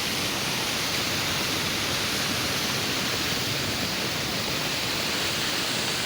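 Rainwater rushing through a roadside storm drain during a heavy downpour in Murree, a loud continuous broadband wash of flowing water with no let-up and no voices.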